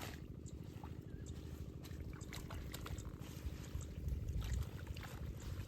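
Cut taro being washed in drain water: soft continuous splashing and trickling, faint and close, with scattered small sloshes and a slightly louder swirl near the end.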